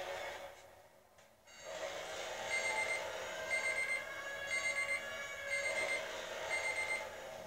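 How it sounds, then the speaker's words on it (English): Alarm clock sounding in a repeating pattern of bright electronic beep bursts, roughly one per second, after a brief quieter moment, with a steady background hum and no talking. "That's my alarm, so I don't forget."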